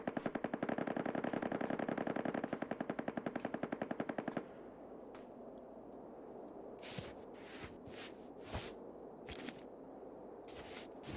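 Gunfire in the video game Ring of Elysium: a rapid automatic burst of shots for about four seconds, then scattered single sharp cracks over a quieter background.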